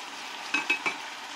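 A spoon stirs chicken soup with celery and vegetables in a pot, giving three quick soft scrapes and clinks over a faint steady background hiss.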